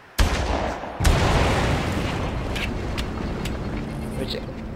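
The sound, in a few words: exploding barrels and gunfire in the video game Far Cry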